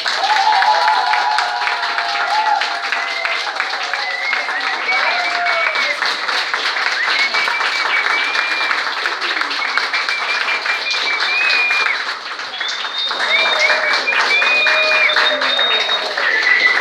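Wedding guests applaud just after the couple is pronounced married, sustained clapping with what sound like whoops and whistles rising over it, briefly dipping before picking back up.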